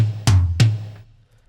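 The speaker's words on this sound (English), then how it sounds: "Now the toms sound like this by themselves." Two quick tom drum hits in a short fill, programmed in Studio One 4 for a reggaeton beat transition, close and punchy with a low resonant tail fading out, heard on their own.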